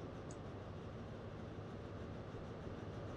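A train in a simulator game pulls into Hayle station, giving a steady low rumble of wheels and carriage noise that stays even and fairly faint throughout, with no talk.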